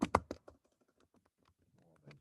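Someone types on a computer keyboard: a quick burst of loud keystrokes at the start, then a run of softer, irregular taps, close up and with no voice.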